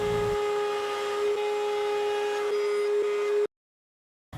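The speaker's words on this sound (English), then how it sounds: "Now, using an 1/8 inch round over bit on my router table," A router table spinning a 1/8 inch round-over bit to ease the edges of a wooden tablet stand, a steady high whine with a strong sustained tone running unbroken for about three and a half seconds before cutting to silence.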